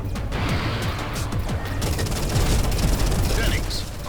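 Dense, sustained gunfire rattles without pause while ships strafe in the space-combat game Everspace 2, loud and close under music, with rapid overlapping bursts.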